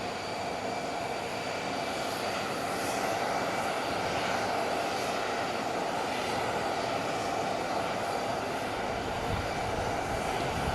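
Air Force One's jet engines hum in a steady, even roar at Palm Beach International Airport, fairly distant and unchanging throughout.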